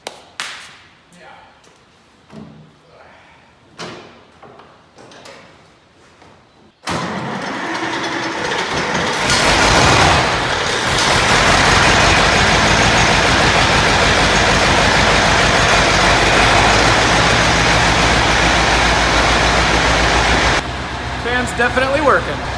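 A Massey Ferguson 1150 tractor engine on a cold day, preceded by a few light taps and clicks, then roaring to life abruptly and running loud and steady close by, its fan adding a broad rushing roar.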